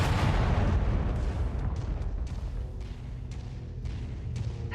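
A missile explosion in the mech combat game Mechwarrior 5: Mercenaries, a loud, dense rumbling boom that starts at full force and slowly decays over several seconds, with scattered crackling debris bursts.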